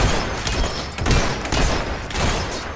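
Gunfire in Fable 3: a dense, loud volley of overlapping shots and thuds in rapid succession, continuing steadily throughout with no talk over it.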